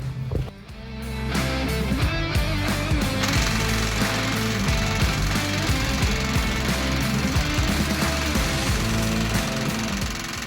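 A power driver works on stubborn old screws holding a Ford Model A gas tank, a steady loud rattling buzz that runs continuously for about ten seconds, close up with no talk.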